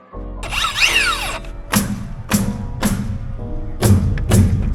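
A rare Makita battery saw fitted with a grinder blade cutting in a run of short, loud bursts, each a whining spin-up and rough bite with brief pauses between, no talking.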